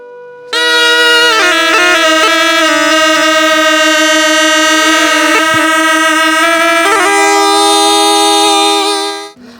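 A snake charmer's pungi, a loud, reedy wind instrument, plays a sustained droning melody, bending between a few pitches for several seconds before stopping.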